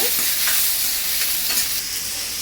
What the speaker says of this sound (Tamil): கொஞ்சம் கருவேப்பிலை போட்டு நல்லா வதக்கிக்கோங்க.